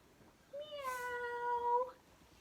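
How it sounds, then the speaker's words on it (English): A single drawn-out meow from a cat, clear and fairly close, rising and falling over about a second and a half against a quiet background. "What's a kitty cat say?"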